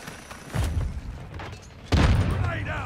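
A C4 charge detonates in the Warzone 2 battle royale game, two dull, low booms about a second and a half apart, the second louder and rumbling on, with players talking over the game.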